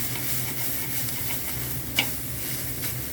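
Oil goes into a pan of local magur catfish frying with onions, giving a steady close sizzle with faint stirring scrapes and one brief clink partway through.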